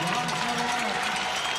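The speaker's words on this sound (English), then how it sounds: "The crowd's still buzzing." Stadium crowd at a women's rugby sevens finals day in Langford, a continuous broad roar and murmur of many spectators, steady and moderately loud, with a voice talking over it.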